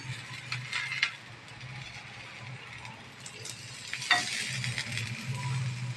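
Thalipeeth fries in a little oil on a tava, a steady close sizzle with faint scraping and clinks of a spatula, no talk.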